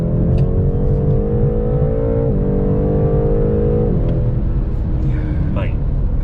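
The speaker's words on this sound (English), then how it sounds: "It is some serious acceleration, some serious punch from ultimately what is a serious car." A BMW M8 Competition's 4.4 litre V8 pulls hard from inside the cabin, a loud steady rumble rising through the gears with a brief dip at each shift.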